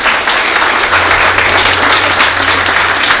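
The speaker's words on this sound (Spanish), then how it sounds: "¿Cuánto le dan un aplauso al Señor en esta hora?" A church congregation claps for the Lord during a sermon, a full, steady burst of applause filling the room without any speech over it.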